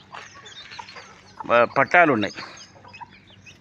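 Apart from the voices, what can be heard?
chickens and roosters clucking at a breeding unit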